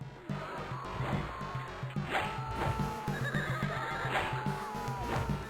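A horse whinnies in the video game Conquests of the Longbow, two shrill neighs over steady hoofbeats and a low game soundtrack.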